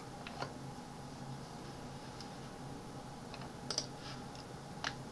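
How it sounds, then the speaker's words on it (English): A single key press on a computer keyboard, the Escape key, gives a soft, brief click over a quiet room hum, with a few other faint clicks scattered around it. "After that, then press Escape key on keyboard."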